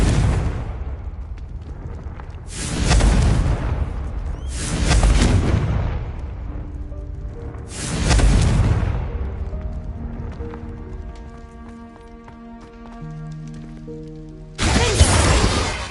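Fiery Confringo spell blasts in Hogwarts Legacy burst one after another, five heavy booming explosions each decaying into rumble, with tonal game music filling the gaps between them.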